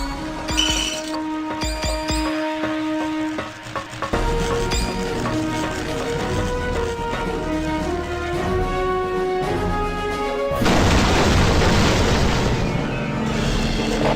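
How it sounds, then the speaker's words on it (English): Missile self-destruct explosion in Marvel Ultimate Alliance, a broad, loud burst near the end that rises over a sustained orchestral score with metallic clinks earlier on. "Missile harmlessly self-destructed."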